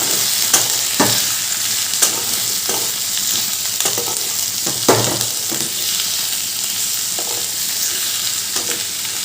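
Chopped bottle gourd frying in a pan, with a steady loud sizzle and repeated scraping stir strokes at an irregular rhythm, close by, no voices.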